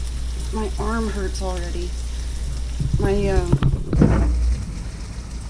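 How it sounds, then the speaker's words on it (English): Food in a pot is stirred with a wet, sizzling, scraping sound that runs continuously under a woman's speech and sung phrases, with a few sharper clatters near the end. "just stirring this like this"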